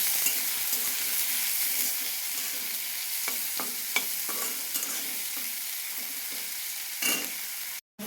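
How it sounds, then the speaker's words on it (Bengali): Onion, green chili and tomato stirred together in a pan on the stove: a steady sizzle throughout with repeated scraping strokes of the spoon, close and fairly loud, with no voices. "পেঁয়াজ, কাঁচা লঙ্কা, টমেটো সব একবারে দিয়ে একটু নাড়িয়ে চাড়িয়ে নেব।"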